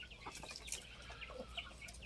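An older hen, a three-to-four-year-old Saen Chai fighting-cock breed bird from the Phanat line, clucks in a short run of close, moderately loud calls over a steady low background hum.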